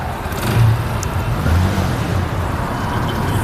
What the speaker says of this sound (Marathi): नितीन ते गाडी जरा चालू कर परत